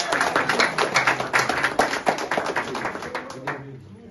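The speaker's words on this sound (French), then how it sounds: "Ça mérite un gros applaudissement." Crowd applause at a gathering celebrating the reopening of a hospital in Cité Soleil, dense clapping sustained and fairly loud before fading out near the end, with some voices mixed in.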